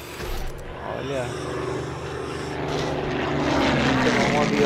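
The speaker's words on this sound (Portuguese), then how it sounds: "Chegou um avião." A propeller airplane arrives in the LEGO Jurassic World game, its engine drone building steadily and growing louder over the few seconds, with people talking over it.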